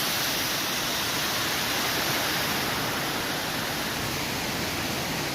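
A steady, close rush of stream water flows over rocks at a forest swimming spot in Ternate, Cavite, as continuous broadband splashing without pause and with no voices.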